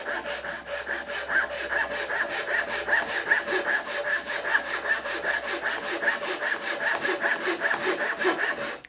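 A hand saw cuts through an old, century-old wooden house beam against a magnetic guide in steady, rhythmic strokes, each rasping pass close and loud, about four strokes per second.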